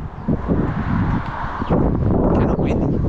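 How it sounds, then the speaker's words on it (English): Gusty wind buffets the microphone in low rumbling bursts throughout, with faint rustling mixed in. "Kind of windy."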